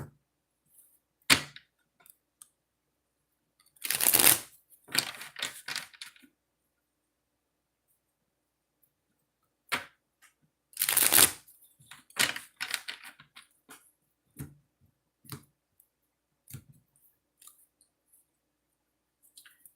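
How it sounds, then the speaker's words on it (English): Oracle card deck being shuffled, two dense riffling bursts of papery flutter followed by scattered light taps and flicks, close and fairly quiet with no talking. "So I got to shuffle the deck and then we'll get started, okay?"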